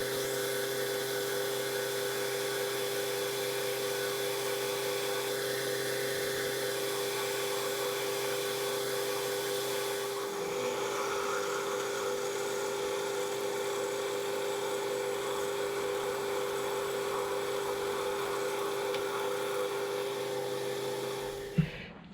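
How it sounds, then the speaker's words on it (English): A 3/4 inch hole being machined an inch deep with a solid carbide boring bar, a steady, loud whining machine drone throughout with a faint shift in tone partway and a brief knock at the end. "now I've got to machine a 3/4 hole in the end."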